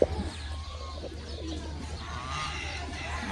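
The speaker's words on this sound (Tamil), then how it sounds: "அங்க இருக்கிறது புறா." Pigeons coo softly at a farm in Kuwait, with low rumbling coos and faint chirps over steady background hum and distant ambient noise.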